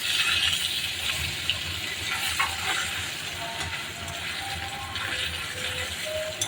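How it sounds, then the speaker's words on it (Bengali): Diced coconut sizzling in hot oil, a steady, loud, continuous frying hiss close up with faint crackles, no talking. "তেলের মধ্যে নারকেলটা দিয়ে দিচ্ছি, নারকেলটা একটু ভেজে নিচ্ছি।"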